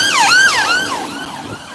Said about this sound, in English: Perfect time there by the ambulance.